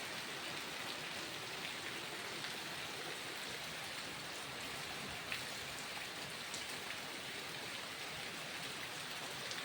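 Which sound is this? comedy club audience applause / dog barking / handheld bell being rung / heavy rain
heavy rain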